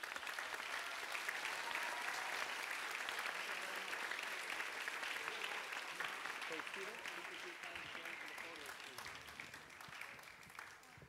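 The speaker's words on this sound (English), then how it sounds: "Let's give one more round of applause" Sustained applause from a seated audience at a peace dialogue event, dense and steady throughout, slowly thinning toward the end with faint voices underneath.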